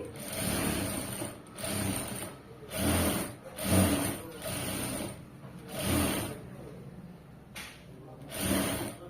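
A sewing machine stitches a side joint in a garment in short repeated bursts, about eight pulses of whirring separated by brief pauses.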